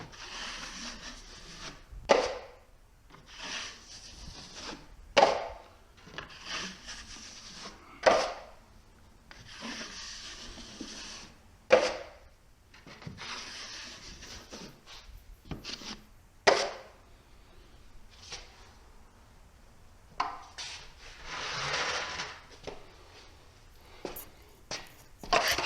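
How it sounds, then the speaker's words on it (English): Trowel smoothing a skim coat of joint compound across a drywall wall, repeated scraping swipes with sharp onsets and brief pauses between strokes, close and fairly loud. "going to smooth it all out. Pressure on the right, lifting on the left."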